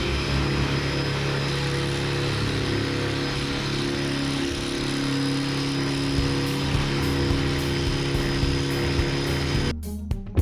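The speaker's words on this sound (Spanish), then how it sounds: "a ver si con este taladro podríamos hacerlo" A continuous loud grinding drone of a Parkside Performance 150 Nm drill without hammer action, with a 12 mm bit, pressing into a concrete ceiling block, steady and close, with no speech.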